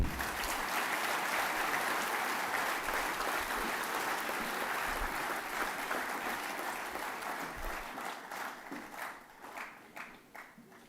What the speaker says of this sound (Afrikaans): kom ons geef hulle nog 'n lekker hande klap